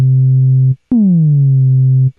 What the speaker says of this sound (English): What this does is really gives you almost like a kick drum once you increase this decay.